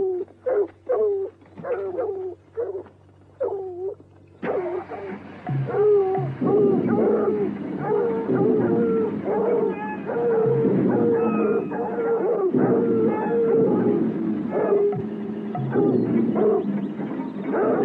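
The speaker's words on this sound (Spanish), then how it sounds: "Esta vez no, tenemos perros." Several dogs bark and howl in a 1981 horror film chase through a meadow, first in separate barks, then a continuous overlapping chorus of baying, moderately loud and alone without talk.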